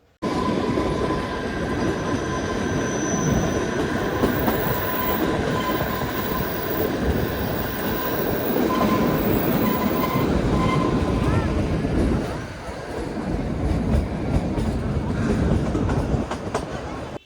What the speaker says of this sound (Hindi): तो जैसे कि ये ट्रेन को टॉय ट्रेन बोलते हैं ना, तो वैसे ही ये चलती हुई है